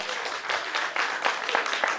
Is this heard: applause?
yes